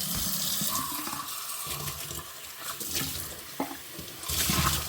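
Hot water runs from a kitchen tap into a container, a steady hissing splash lasting a few seconds with small clinks and a louder surge near the end, and no talking.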